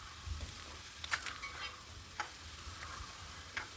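Okra sautéing in a pan with onion and ginger for a Kerala-style theeyal, a soft steady sizzle broken by a few scraping stirs of a spoon, close and quiet with no talking.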